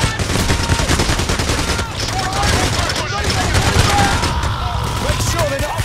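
Rapid automatic gunfire and bursts of shots fill the video game PAYDAY The Heist, loud and dense throughout, mixed with game effects and players talking over the shooting.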